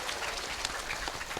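A brief burst of audience clapping for Banser members at a religious gathering in Indonesia, a dense, hissy patter of many hands heard from a distance, faint and steady for just over a second, with no voices on top.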